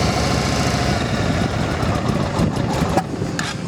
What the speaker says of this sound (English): The motor sounds good and tight.